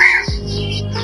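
A brief bird chirp rings out over a busy street backdrop, a single sharp call lasting only a moment.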